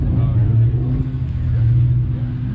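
A car at an outdoor car meet revs with a steady, loud, deep engine roar and a jet-like rush, close by and continuous throughout, with people talking over it.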